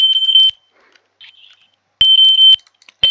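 Fire alarm horns in the Roblox video game sound a loud, piercing 3 kHz tone in sharp half-second bursts, separated by gaps with faint clicks, and a third burst begins just as the clip ends.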